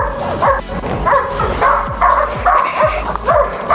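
A dog yips and barks repeatedly in short bursts with whimpering between them during down-command obedience training, loud and close, with no speech.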